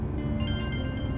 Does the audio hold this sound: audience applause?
no